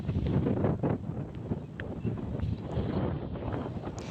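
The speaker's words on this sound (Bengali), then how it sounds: "রয়েছে প্রচণ্ড বেগে বাতাস, মনে হচ্ছে ঝড়ের মতো গতিবেগ নিয়ে বাতাস শো শো করে গাছপালাগুলো" Strong wind roars and buffets steadily, gusting through foliage with a rough rushing hiss that never lets up.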